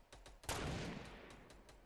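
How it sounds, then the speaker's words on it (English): A sniper rifle shot fired in a battle royale video game near Tomato Town, one loud sharp report with a decaying tail following a few faint earlier taps. "I just got sniped"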